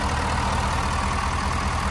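A Ford 6.7 diesel pickup engine idles right after a tune, a steady low-pitched rumble with an even mechanical clatter, recorded close and fairly loud with no one talking over it.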